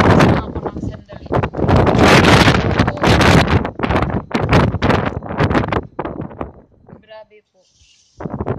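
Strong sandstorm wind batters a rooftop in Jeddah at midnight, roaring in loud, gusting surges that buffet the microphone, then drops away briefly near the end.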